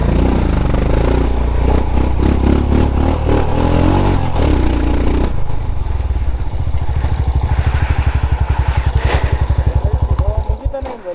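Royal Enfield Himalayan BS6 motorcycle ridden on a muddy monsoon trail with loaded panniers, its single-cylinder engine thumping in a loud, steady rapid pulse close by, with voices talking over it.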